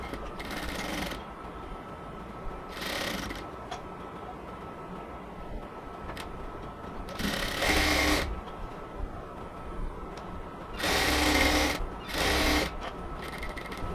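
Sewing machine stitching the side seams of a cotton dress, running in short bursts of quick mechanical whirring separated by quieter pauses with light clicks, close up and fairly soft.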